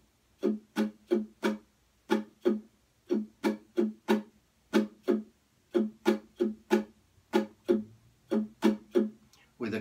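A chord strummed over and over in the island strum pattern, with crisp down and up strokes in a steady, syncopated rhythm and short gaps where strokes are skipped, heard close and alone.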